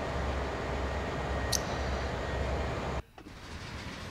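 Steady low rumble of a passing train in Train Sim World on the Northeast Corridor's Hell Gate Bridge, broad and continuous, with a brief high squeal partway through before the noise suddenly drops off.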